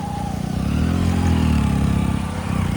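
A motorcycle rides along with a close, steady engine drone that swells slightly midway, and no one speaks over it.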